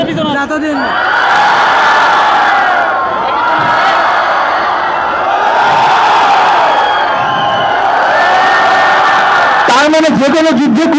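A big audience yells and cheers in loud sustained waves that rise and dip several times, then a burst of sharper shouts near the end.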